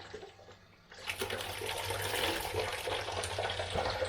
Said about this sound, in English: I'll just give these a quick rinse